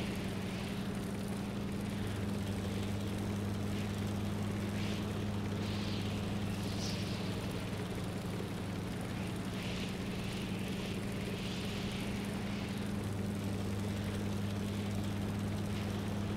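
Game helicopter in Stormworks: Build and Rescue being thrown around in flight, a steady droning rotor and engine hum with a strong low tone and hiss running continuously throughout.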